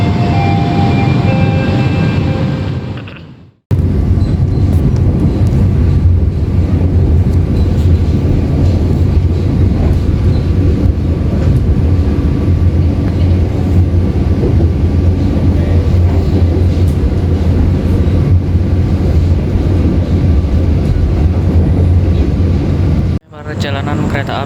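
KA Majapahit passenger train rolling on rails between Karawang and Haurgelis stations on its Jakarta to Malang run, a steady loud low rumble of wheels and carriage noise heard from onboard that continues for about twenty seconds, cut by a brief gap near the start.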